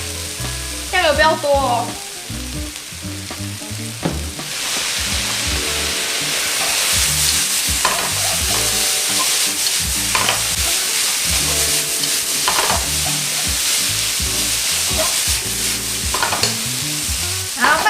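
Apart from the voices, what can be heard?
stir-frying potatoes with pickled mustard greens, soy sauce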